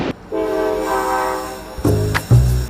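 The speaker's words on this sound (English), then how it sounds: "As the train rolls out from Toronto to Ottawa" A passenger train pulls away from Toronto heading for Ottawa, its horn sounding as a long steady blast with harmonic tones, then a few shorter, louder honks near the end, with no talk.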